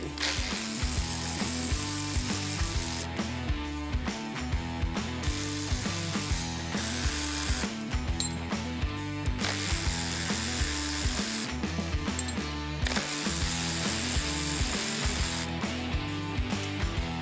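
A hand ratchet clicks steadily while loosening the rocker arms on an old engine during teardown. Bursts of fast, close pawl clicking repeat with brief pauses between them, with no talking.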